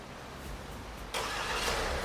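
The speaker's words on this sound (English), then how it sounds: "the Carnival will start its engine as well as the aircon to cool itself" A Kia Carnival minivan starts up via its remote smart key, the engine catching abruptly partway through and settling into a steady, even idle with the air conditioning coming on.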